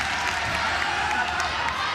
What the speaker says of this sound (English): this crowd is enjoying every bit of what they are witnessing